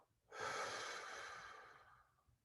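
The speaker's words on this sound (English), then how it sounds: "Breathing out through the mouth." A slow, steady exhalation through the mouth during a qigong breathing session, one soft close breath that swells quickly and fades gradually over about two seconds, with no voice.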